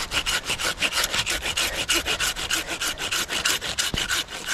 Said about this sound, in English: we're going to need the saw, and we're going to take off this limb here